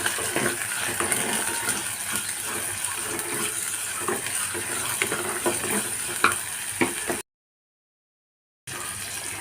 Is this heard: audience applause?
no